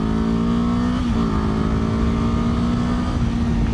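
A Kawasaki Ninja 7 Hybrid motorcycle ridden on roads around Saint-Cergue gives a loud, steady engine drone, with a brief dip in pitch partway through as it shifts or eases off.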